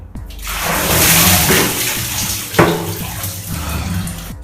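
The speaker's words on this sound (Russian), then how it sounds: "я принимаю Ice Bucket Challenge." Bucket of ice water dumped over a person for the Ice Bucket Challenge, a loud sustained splashing gush lasting several seconds with a sharper splash midway, no talking.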